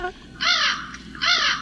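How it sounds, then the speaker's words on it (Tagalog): Two harsh crow caws, evenly spaced about a second apart, sound clear and fairly close against a quiet background. "Malaking ibong uwak?"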